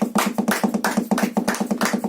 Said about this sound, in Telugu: చప్పట్లు కొట్టండి, చప్పట్లు కొట్టాలి